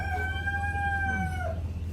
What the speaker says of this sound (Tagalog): Ang dami manok guys, oh. Mga native yan.